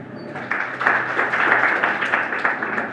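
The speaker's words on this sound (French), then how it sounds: "je les applaudis aussi" Steady applause from a crowd at the opening ceremony of the 2019 Kankan Youth Forum, a dense wash of clapping that swells slightly and holds at a constant level throughout.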